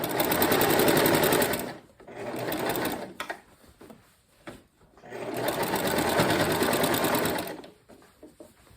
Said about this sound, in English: take a couple of stitches, back stitch, and go all the way down to this edge. Stitch right in the ditch.